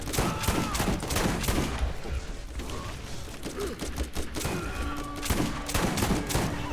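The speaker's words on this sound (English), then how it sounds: "This shotgun is extremely strong." Shotgun fire in Borderlands, a run of sharp, heavy blasts repeating at irregular intervals over clattering game action and mechanical reload sounds, loud and close throughout.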